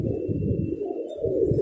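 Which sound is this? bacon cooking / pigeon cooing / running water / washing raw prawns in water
pigeon cooing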